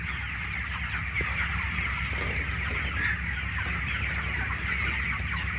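A flock of chickens on a poultry farm, birds around 28 days old, clucks and murmurs continuously in a dense, steady chorus with no pauses, filling the shed at an even loudness.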